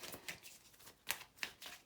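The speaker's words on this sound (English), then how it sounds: "let's do a little bit of a shuffle" Tarot cards being shuffled by hand for a seven-card spread, a soft papery riffle and flutter with a few sharper snaps of the deck, fairly close and quiet, no talking.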